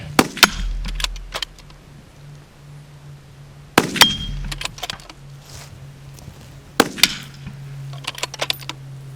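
Rifle shots, including a .308, are fired at a steel spinner target on a shooting range. Three loud, sharp reports come several seconds apart, each trailing off into a low steady hum between shots.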